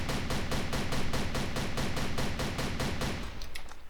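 SPR rifle firing in the video game Darkest Days as a rapid, evenly spaced string of loud shots that runs almost continuously, then thins out and stops near the end.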